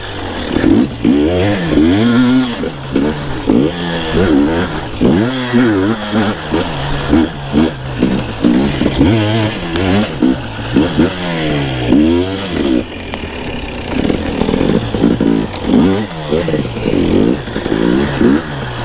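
A new two-stroke dirt bike rides with a loud, buzzing engine that rises and falls continuously as the throttle opens and closes, heard close and dominant throughout, with rattling chassis noise over rough whoops.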